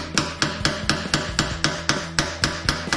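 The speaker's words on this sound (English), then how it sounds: "I use a blunted chisel and a hammer" A hammer taps a blunted chisel in a steady run of about a dozen sharp, ringing metal strikes, evenly spaced and close by, while replacing a 2014–2019 Harley-Davidson Touring fuel filter.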